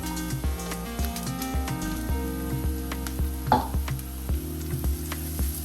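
Ginger and garlic hit light-brown onions frying in a pan for a leftover curry, giving a steady, moderate sizzle with faint stirring scrapes under a tonal musical background.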